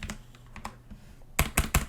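Computer keyboard typing, a few soft scattered keystrokes followed by three louder, crisp, close taps near the end.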